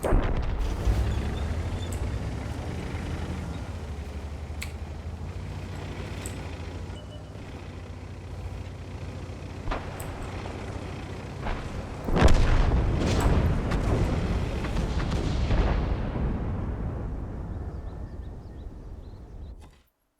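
Tank cannon fire in World of Tanks over steady engine and battle rumble, with a heavy, booming shot around the middle that trails off into a long decay before the sound fades out.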